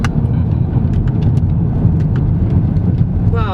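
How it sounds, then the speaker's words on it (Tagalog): A 2024 GAC Empow GE with a quad exhaust accelerates hard in Sport Plus mode, giving a loud, steady low roar and rumble heard from inside the car, alone. "you can hear the exhaust now, which is actually surprising. Remember, this is quad exhaust."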